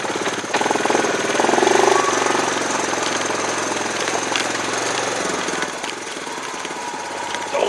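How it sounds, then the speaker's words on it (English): A cranked squirrel wheel contraption running with a steady loud mechanical rattle and hum that continues without a break, easing slightly toward the end. "It's time to crank up the squirrels and make this squirrel wheel run"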